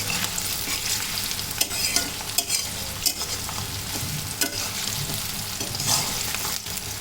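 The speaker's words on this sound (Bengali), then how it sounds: "পেঁয়াজটা বেরেস্তা করা হচ্ছে এটাতে।" Onion frying until crisp in a pan, a dense continuous sizzle broken by scattered clicks and scrapes of stirring, close and fairly loud.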